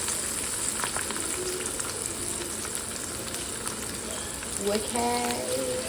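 Fish frying in a pan on a home stove in Kerala, a steady close sizzle throughout with a few brief clinks and scrapes near the end.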